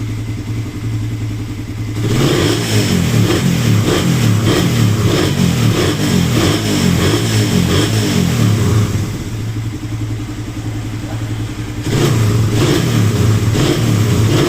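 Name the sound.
Suzuki Raider 150 motorcycle engine revving after tune-up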